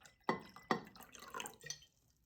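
Water trickling and splashing into a glass of cold brew coffee concentrate, two sharp drips at the start followed by a brief uneven pour, close and quiet.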